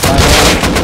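Gunfire in the survival video game Rust plays as a loud, dense burst of close shots packed into under a second, with no voices over it.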